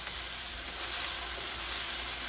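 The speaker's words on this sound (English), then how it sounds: "So I want to hear that, even if it's a light sizzle, something." A steady, soft sizzle of garlic frying in a pan, an even hiss with no voices.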